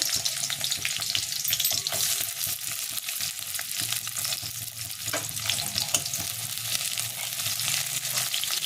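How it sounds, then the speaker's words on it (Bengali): Steady, loud sizzling of square-diced onions frying in a pan for chilli paneer, with continuous stirring scrapes and no talking. "তারপর আমি এর মধ্যে চৌকো চৌকো কেটে রাখা পেঁয়াজগুলো দিয়ে দেবো।"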